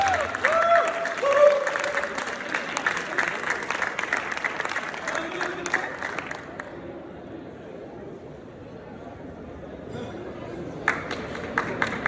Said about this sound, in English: Give them a very big round of applause and a second runner-up.